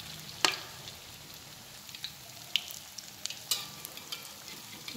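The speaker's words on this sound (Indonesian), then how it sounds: "Kita goreng dengan api sedang ya, jangan terlalu panas biar nggak cepat gosong karena ada telurnya." Egg-based balls frying in oil over medium heat, a steady soft sizzle with occasional sharp pops and crackles, fairly quiet and with no talking.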